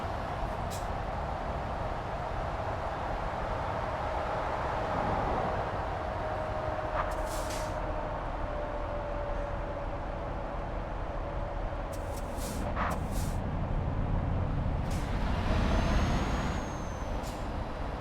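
A heavy truck drives along in Euro Truck Simulator 2, its steady low engine rumble running throughout with a few brief hissing air-brake bursts and a faint rising tone near the end, no talk.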